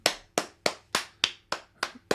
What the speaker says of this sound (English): Everybody clap and chat for Jess